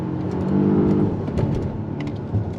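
A Volvo XC90 T8 SUV with a four-cylinder turbo engine accelerates under throttle, giving a steady, smooth rising hum from inside the cabin with no voices.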